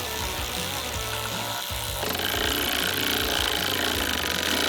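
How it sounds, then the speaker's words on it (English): Electric wrench running in a garage during a motor and transmission swap, a continuous buzzing whir that steadies and then grows louder partway through. "Don't you got an electric wrench, though?"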